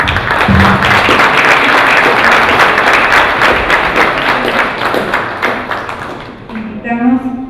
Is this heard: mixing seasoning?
no